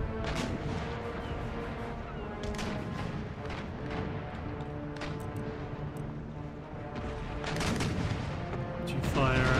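Repeated artillery and cannon fire from naval broadsides in the Empire: Total War strategy game, a dense, ongoing barrage of booms and cracks over a constant battle din, growing louder near the end.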